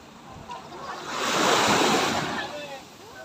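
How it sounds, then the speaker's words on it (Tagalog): Ocean surf washing onto a sandy beach at a resort in Sariaya, Quezon, a continuous broadband roar that swells to a loud peak midway through and then eases, with wind buffeting the microphone and no speech. "Sensya na sa ingay ng maalon po."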